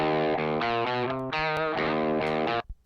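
A heavily distorted electric guitar plays a short run of sustained notes and chords, loud and buzzy, ending abruptly with a brief muted thump.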